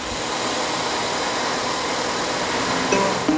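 A Reftec Lite Evac high-pressure refrigerant recovery system runs right after power-on, giving a steady mechanical motor hum with a faint whine and a couple of small shifts near the end.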